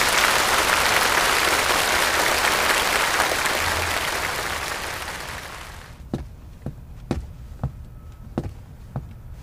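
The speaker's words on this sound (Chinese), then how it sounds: "让我们为胜利者鼓掌" An audience at a university debate breaks into loud, sustained applause for the winning team. The clapping thins out after about six seconds, leaving a few sharp, separate taps.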